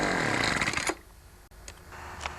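A Poulan leaf blower's engine fires with a loud, rough roar for under a second, then cuts out and leaves only faint handling noises.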